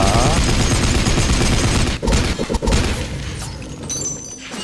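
Rapid gunfire in the action game Blades of Time, a loud dense burst of shots that breaks into a few sharp cracks before fading into quieter game ambience.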